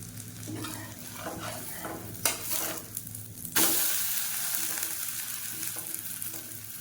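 Tomato adai dosa batter sizzles steadily in a hot pan as it is stirred and spread, with a few sharp scraping clicks and a louder burst of frying partway through.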